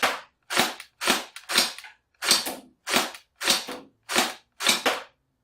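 An STD AK V2 AK-47 gel blaster fires gel balls in single fire mode: nine sharp, loud individual shots evenly spaced about half a second apart, each with a short decaying tail and no voices.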